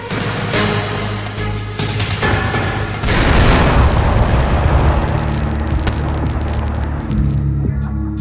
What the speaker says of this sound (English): What if I told you that explosion wasn't actually in the game?